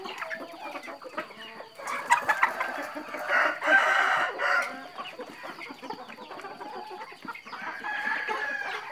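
Chickens, including roosters and capons, cluck and crow at close range in irregular bursts, with a louder crowing stretch in the middle and quieter clucking around it.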